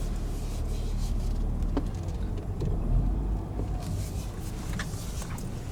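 A brand-new 2019 MINI Cooper drives along, giving a steady, moderate cabin hum of engine and road noise with no talk.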